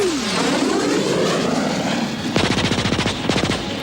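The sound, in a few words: airplane machine gun fire sound effect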